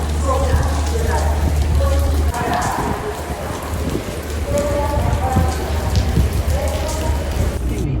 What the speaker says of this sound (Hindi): बहुत ज़्यादा बारिश हो रही है यहाँ पर